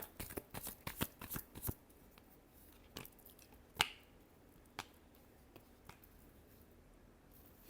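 A deck of tarot cards is shuffled close up in quiet, with quick bursts of riffling and slapping. Scattered single card snaps and taps follow.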